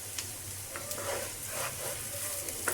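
Two eggs hit a hot pan on a home kitchen stove and sizzle with a steady, close, crackling hiss that swells in small bursts over a few seconds.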